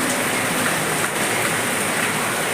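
Heavy rain pours onto a tiled roof, a dense, unbroken hiss close by that stays loud and even throughout.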